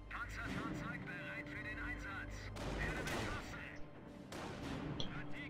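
Battle gunfire in the video game Company of Heroes: bursts and scattered shots crackle at a moderate distance, with a faint background of engines and rumble throughout.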